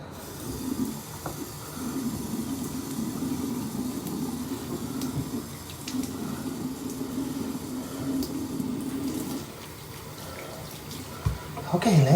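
Tap water running steadily into a sink or tub while a kitten is rinsed during a bath, a soft continuous splash with faint voices and small bumps near the end.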